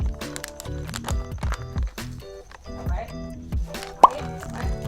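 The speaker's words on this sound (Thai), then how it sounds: "เดี๋ยวเราจะมาทำน้ำชาเขียวนะคะแล้วก็จะใส่น้ำแข็งลงไปก่อน ตามด้วยผงชาเขียว" Ice cubes are dropped into a glass for an iced milk green tea, making a series of hollow plops and clunks, close by, while someone talks over them.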